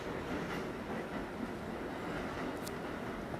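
A subway train runs in a video game with snowy B and D line runs, giving a steady rumbling, rolling rail noise that holds constant throughout, with a faint squeal near the end and no talking.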